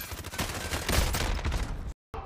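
Rapid gunfire from Call of Duty: Warzone crackles in dense, overlapping bursts, loud and sharp throughout, then cuts to a moment of silence before resuming briefly.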